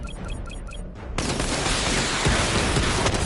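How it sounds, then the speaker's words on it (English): A Batmobile missile barrage fires in Batman: Arkham Knight, a sudden dense roar of overlapping blasts and crackling explosions that cuts in and holds loud, broadband and rumbling, after a moment of quieter electronic beeps. "Missile barrage level 2 ready."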